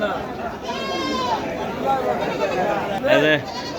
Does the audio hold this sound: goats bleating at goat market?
yes